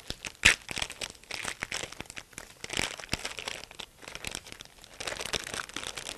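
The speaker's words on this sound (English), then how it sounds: "I'm going to open the packaging, and this instructs me to peel downward." Sterile glove packaging peeled open downward by hand during a clinical gloving procedure, giving close, repeated crinkling and tearing rustles of paper and plastic that come in bursts, with a sharp crackle near the start and no talking.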